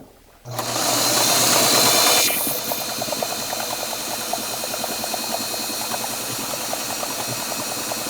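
A sewing machine sews a double hem on dropcloth for an apron. After a brief loud hiss, a close, steady rattling hum of stitching runs on without a break.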